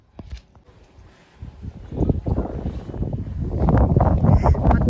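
Strong wind blowing outdoors, buffeting the microphone in a rough, rumbling roar that starts faint and grows steadily louder and more gusty.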